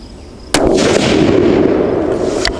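A single loud, close rifle shot from a Savage 12FV firing Hornady 178g ELD-X ammunition, a sharp crack followed by a long booming decay, with a fainter impact-like snap near the end.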